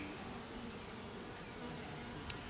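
Faint, steady buzzing of many honeybees close by at a top bar hive, a continuous hum with no voices.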